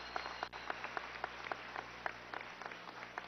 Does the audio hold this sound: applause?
yes